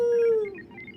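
A sled dog lets out a single, close howl that holds steady for a moment and then fades, with a faint hum of background noise behind it.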